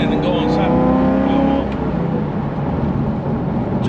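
A C4 Z51 Corvette engine rises under throttle, a loud droning engine note with climbing harmonics that eases off after a second, heard from inside the car while a person talks over it.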